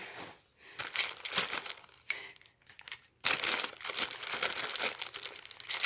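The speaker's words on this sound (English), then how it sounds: "So I'm taking all the plastic off." Plastic packaging crinkles and crackles up close in irregular bursts, with brief pauses between handlings and a louder stretch of rustling toward the end.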